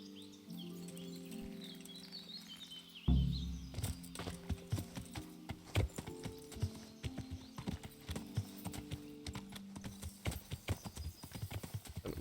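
Horse hooves clip-clopping in the medieval video game Kingdom Come Deliverance, a steady close rhythm of sharp hoof strikes beginning after a few seconds of quieter ambience, with faint birdsong in the background.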